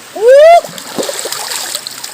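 Fresh water splashes and sloshes as it is scooped up during outdoor jungle cooking. A loud voice-like rising tone comes first, followed by a run of wet splashes and gurgles at close range.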